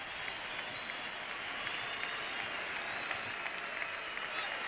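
Philadelphia arena crowd at a 2003 Wizards vs Sixers NBA game, standing for Michael Jordan's last game, cheering and applauding in a dense, steady roar.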